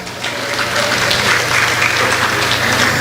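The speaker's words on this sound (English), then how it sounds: "Let's get our loud round of applause." A crowd at a Tobago Hindu Society Indian Arrival Day celebration in a mall gives a loud, thick round of applause, many hands clapping continuously and close, filling the space without any voices on top.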